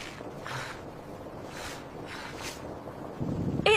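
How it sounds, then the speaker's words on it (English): Wind gusts rush past outdoors in soft recurring swells over a steady low roar, moderately loud and close to the microphone, with no voices. "It's windy today."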